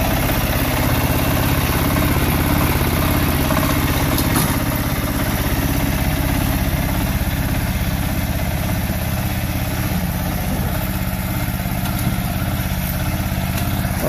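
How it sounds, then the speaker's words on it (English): A small homemade snow-plowing tractor engine idles steadily and continuously at close range, a loud, even mechanical drone with no speech over it. "Little tractor runs pretty good, actually."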